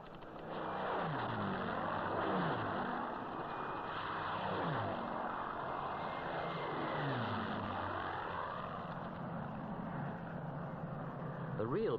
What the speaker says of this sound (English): Messerschmitt 109 fighters practiced their strafing overhead